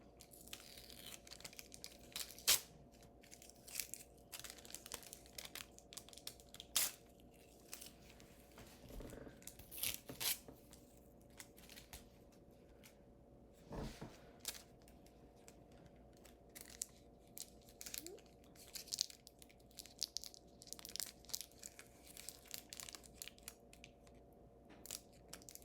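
Duct tape is torn by hand without scissors: a sparse series of short crackling rips and crinkles, near and fairly quiet, over a faint steady hum, with no talking.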